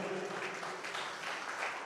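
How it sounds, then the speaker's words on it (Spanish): A church congregation applauds during a sermon, a soft, distant wash of many hands clapping that stays even and fairly faint throughout. "Y un aplauso también, ¿por qué no?"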